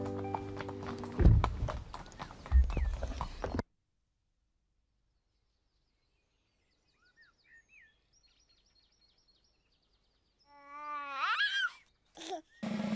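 A horse's hooves clip-clop in a short run of sharp knocks near the end, following a stretch of near silence with faint bird calls, while children's-show music and voices play at the start.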